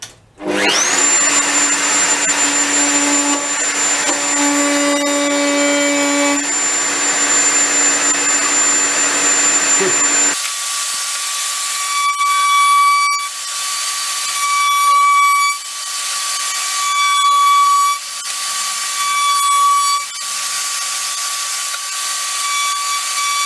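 A mini lathe cutting a test piece of pine wood, a steady whining motor with tonal hum that shifts abruptly midway to a higher-pitched, pulsing cut with repeated bursts, close and loud, no talk.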